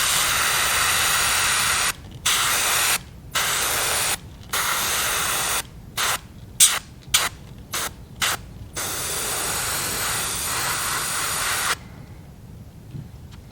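An airbrush sprays transparent brown paint onto a fishing bait in repeated bursts of close, hissing air, broken by short silent gaps, with a longer spray ending abruptly into near silence.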